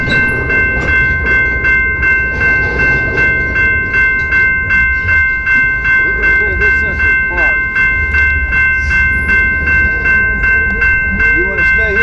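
BNSF and Ferromex locomotives switching cars at Slaton, Texas, as rail tank cars roll past, with loud, steady rhythmic clickety-clack of wheels over rail joints close by and a low engine rumble underneath.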